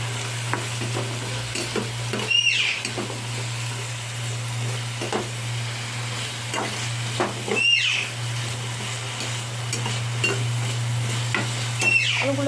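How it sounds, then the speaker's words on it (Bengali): Potatoes dusted with turmeric are stirred and fried in a pan, with a steady sizzle running throughout and a few louder scraping stirs every few seconds against a constant low background hum. "দিয়ে ভালো করে আলুগুলোকে নেড়ে চেড়ে ভেজে নিতে হবে।"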